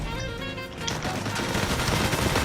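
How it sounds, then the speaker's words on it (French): Rapid gunfire from a Fortnite video game, with dense, loud overlapping shots packed into a continuous burst throughout. "nous avons eu un nouveau sniper, le sniper Slasher coup par coup"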